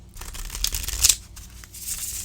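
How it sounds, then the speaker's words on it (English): Quick riffling of tarot cards being shuffled, a short burst of crisp flutters and snaps, close by with no talking. "And we're going to shuffle them again."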